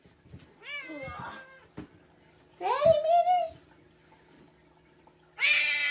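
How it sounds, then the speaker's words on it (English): A cat yowls in three drawn-out, wavering meows and caterwauls separated by short pauses, loud and close, with the last cry cut off abruptly. "Whenever a cat makes noise like that, you need to avoid it for the next 5 years"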